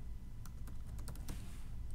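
Fingers tapping a computer keyboard while entering a password: a short run of quick, light, uneven key clicks, close and quiet over a steady background hiss.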